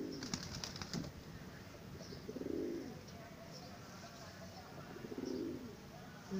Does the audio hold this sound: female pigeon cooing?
yes